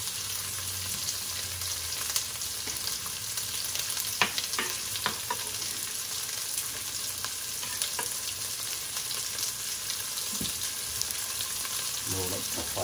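Onions sizzle in a pan along with pieces of cow stomach for Portuguese dobrada, a steady close frying hiss with scattered sharp crackles and a few scraping stirs, no talk.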